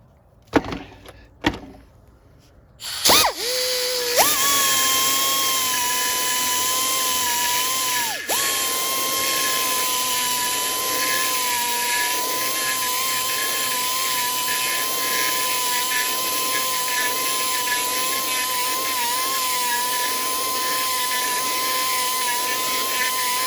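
A grinder works metal on a Sinistar arcade control panel, starting after a few knocks and then holding a loud, steady high whine with a brief dip partway through, running alone for most of the clip.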